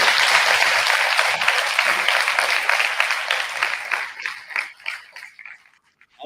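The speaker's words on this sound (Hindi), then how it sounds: "तो आप लोगों को अगर इनकी टॉक पसंद आई और समझ में आई हो तो एक बार जोर से ताली दीजिए।" An audience at an environment and menstrual hygiene day event breaks into dense applause that starts loud, then thins into scattered claps and stops.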